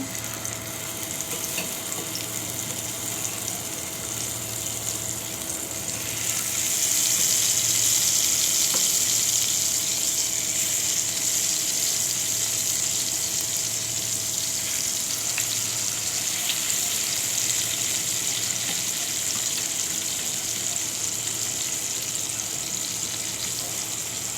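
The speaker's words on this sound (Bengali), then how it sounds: "তেলটা গরম হয়েছে এখন আমি মাছটা দিয়ে দেবো" Fish frying in hot oil gives a continuous bright hiss and crackle that swells noticeably a few seconds in and then holds steady and close, with faint background hum throughout.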